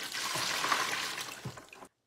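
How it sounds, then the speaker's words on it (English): Water pours steadily into a sensory water table holding floating foam lily pads and rocks, a continuous splashing stream lasting nearly two seconds before stopping abruptly. "let me put one more thing of water in there"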